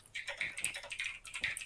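Quick, uneven clatter of keys on a computer keyboard, a run of crisp clicks at close range with no voices.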